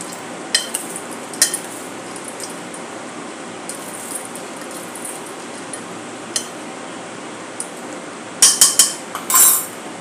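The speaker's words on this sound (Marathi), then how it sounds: "मिक्स करूया।" A dry street-style bhel mix with peanuts, chickpeas and dal is stirred in a bowl, giving a soft steady rustle with a few sharp utensil clinks, the loudest cluster near the end.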